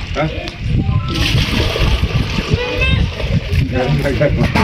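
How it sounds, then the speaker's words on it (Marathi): Water splashes and sloshes as tomato and okra plants in a village garden are watered, with talking, including a voice, running over it throughout. "पप्पा झाडांना पाणी देतात"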